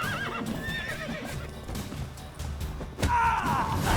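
A horse in The Witcher 3 whinnies shrilly several times over steady clip-clopping hooves, with rustling game noise behind it and a loud neigh near the end.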